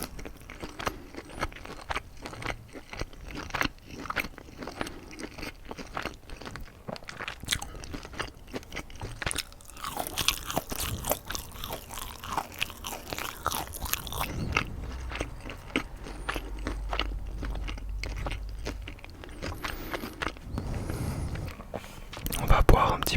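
Close-up crunching and chewing of McDonald's chicken tenders and goat cheese croquettes, with steady bites and mouth sounds through the whole stretch, plus soft whispering between mouthfuls.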